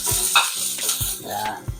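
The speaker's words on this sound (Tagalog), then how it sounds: "Gigisa natin yung ating garlic. Pero mainit." Garlic sautéing in a hot pan, giving short bursts of sizzle alongside stirring and light scraping, close and fairly loud with a few soft knocks.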